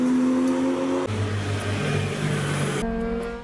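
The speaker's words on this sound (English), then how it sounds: "There will be modified vehicles that speed through the roads." Modified cars speed along a road at night, their engines revving loudly and continuously, with a shift in pitch partway through before the roar tapers off at the end.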